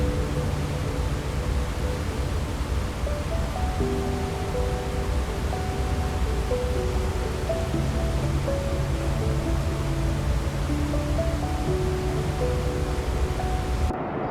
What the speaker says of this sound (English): There's always a quieter side, except for the falls themselves. Those are loud no matter what.